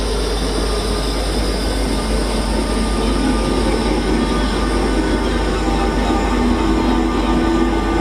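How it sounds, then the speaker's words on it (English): A Class 325 electric train rolls past on a goods line at a station on the West Coast Main Line, a steady, loud, continuous rumble of wheels and motors lasting throughout with no talk. "Leaving us on the goods line is 325001, heading back to Crewe."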